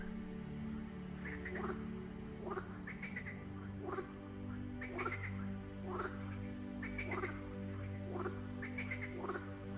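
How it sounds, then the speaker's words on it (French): A chorus of frogs croaking in a lush jungle setting, a repeating pattern of throaty calls layered over a steady drone of insects and ambience, continuous and moderately loud. "Commencez à entendre le concert des grenouilles."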